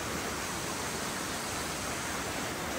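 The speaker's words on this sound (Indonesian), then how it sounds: "Air terjun Kedung Kepiur." Kedung Kepiur waterfall on a mountain trail, a steady broadband rush of falling water, constant and fairly close, with no voices.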